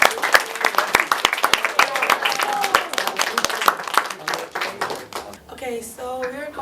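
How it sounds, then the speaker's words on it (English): An audience at a youth leadership camp presentation breaks into applause, dense clapping that thins out over several seconds before a speaker begins talking. "Round of applause."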